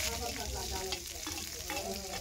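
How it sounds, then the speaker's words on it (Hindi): Onions fry in hot oil with mustard seeds and cumin, a steady close sizzle with occasional stirring scrapes, heard alone in a home kitchen. "प्याज को थोड़ा भून लेंगे।"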